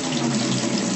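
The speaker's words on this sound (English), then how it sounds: "So you're going to fill this up with hot water." Hot water runs from a bathtub tap into a 5-gallon bucket in a guest bathroom, a steady, loud rushing splash that fills the whole second without a break.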